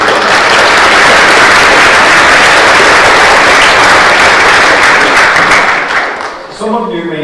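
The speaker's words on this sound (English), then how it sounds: "You should give them a big round of applause." Audience applause at a teacher recognition ceremony, loud, dense, continuous clapping filling a hall for several seconds before tapering off, then a brief musical tone at the close.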